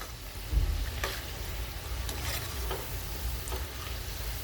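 Shredded-cabbage fritters (bhaji) deep-fry in hot oil over low gas, giving a steady bubbling sizzle with occasional crackles and a brief low knock near the start, with no talking.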